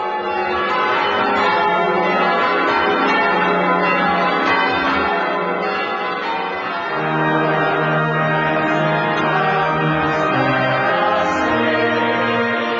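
Church bells of the Anglican cathedral in Quebec City ring together, a dense, steady peal of overlapping tones and harmonics sustained throughout, loud and close with no voices.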